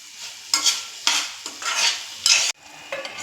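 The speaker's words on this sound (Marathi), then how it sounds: "जरासं फिरवून" A spoon stirs green beans with coriander in a pan on a gas stove, making repeated scraping, sizzling strokes in uneven bursts, loud and close with no talking.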